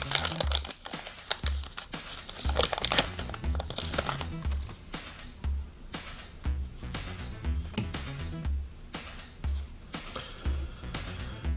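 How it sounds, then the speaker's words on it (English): Trading card packs being ripped open by hand: repeated close crinkling foil and tearing bursts in irregular rhythm, loud and crisp, with brief handling rustles between rips. "Ripping packs."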